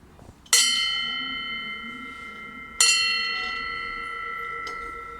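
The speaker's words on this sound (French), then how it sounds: "Originaire de la Suisse, c'est une cloche de parade portée lors de les montagniers" A large Swiss parade cow bell, the big kind worn on the ascent to alpine pasture, struck twice about two seconds apart, each clang ringing out with a long bright sustained tone, close and alone.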